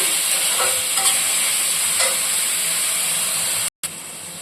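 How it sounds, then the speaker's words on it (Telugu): Sliced onions frying in hot oil as the base for a chicken curry, a loud close continuous sizzle and hiss with a few light stirring scrapes, broken by one very short dropout near the end. "మనం ఉల్లిపాయ వరకు వేసుకుని వేయించుకోవటమే కొంచెం కలర్ మారేదాకా వేయించాలండి"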